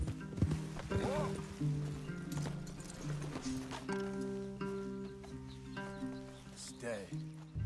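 Horses in the Red Dead Redemption 2 video game, with hooves clip-clopping and a whinny, mixed with game speech and music-like tones in a busy, moderately faint scene.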